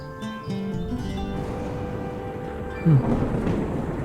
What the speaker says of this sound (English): Atmospheric with the thunder going and the rain sheeting down and the sea looking a bit leery.